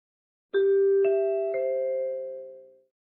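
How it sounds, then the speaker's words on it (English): The three-note NBC chimes ring out in rising sequence, each clear bell-like tone stacking over the last and sustaining together before fading smoothly away, with no voices. "Let's hit those NBC chimes and get on the road."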